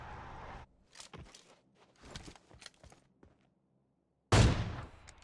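Bursts of gunfire in the mobile battle royale game PUBG Mobile, scattered quick shots early on and a loud, close volley near the end, with footstep-like shuffles in between.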